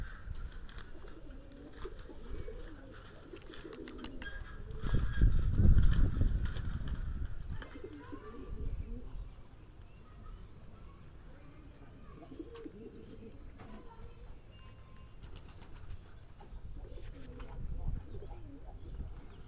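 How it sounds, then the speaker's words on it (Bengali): Bombay pigeons in a farm loft give soft, low cooing throughout, with a louder burst of fluttering wingbeats in the middle, and faint talk in the background. "তো দেখতে পাচ্ছেন আমাদের বোম্বাই কবুতরগুলো।"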